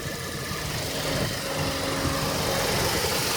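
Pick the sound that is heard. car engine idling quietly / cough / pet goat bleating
car engine idling quietly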